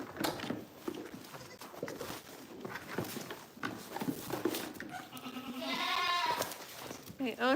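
Goats on a goat farm bleat amid constant close talk from a person among the herd, with a louder drawn-out bleat rising near the end over steady background noise.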